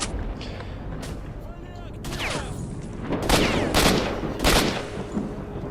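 Machine gun fire in the video game S.T.A.L.K.E.R.: Shadow of Chernobyl: loud, repeated bursts of shots over several seconds, mixed with booming in-game effects.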